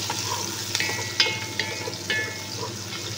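Chopped onion and garlic frying in a pan with a steady close sizzle, broken by a few sharp clinks of a utensil against the pan, no talk.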